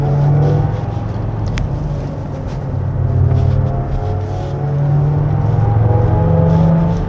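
Electric whine and road noise from a Genesis GV60 Performance AWD accelerating in drift mode on a winding road, a steady hum with tonal layers that swell and ease, heard from inside the car.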